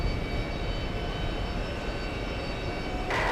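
A Delta heavy airliner taking off from runway 31 left, a loud, steady broadband jet engine roar that holds throughout, with a brief change near the end.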